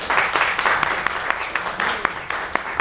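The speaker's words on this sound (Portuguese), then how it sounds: "Eu queria pedir uma salva de palmas." A crowd at a national student forum in Brasília applauds: dense, brisk clapping with sharp individual claps popping through, sustained for a few seconds.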